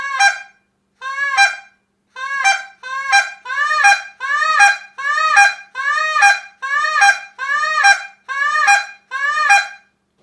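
A short reed honker goose call imitates a Canada goose, giving a steady run of about eleven sharp, cracking honks, each breaking from a low note into a high crack, loud and close with no talk.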